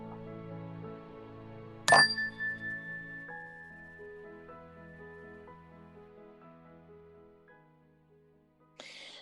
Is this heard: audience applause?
no